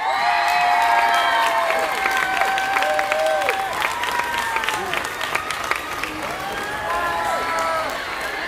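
Audience applause and cheering for youth gymnastics teams at a cantonal awards ceremony, steady dense clapping with scattered whoops and children's shouts throughout.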